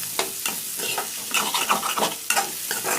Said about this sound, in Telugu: ఇది ఒక్క ఒక్క నిమిషం అట్లా అట్లా అనేసి కలుపుకోవాలి బెండకాయలను కూడా